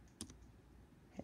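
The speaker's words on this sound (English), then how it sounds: "Go into the search bar and you type in what you want to know" A computer keyboard gets a few light keystrokes while someone types a query into a search bar: two quick clicks near the start and one more a second later, faint and close.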